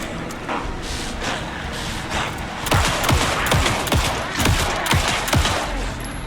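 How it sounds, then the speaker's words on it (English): Rapid bursts of gunfire in the video game Alan Wake 2 crack repeatedly, sharp overlapping shots growing denser midway, over a constant background rumble. "Anderson, pin him down with gunfire for me to get the light on him."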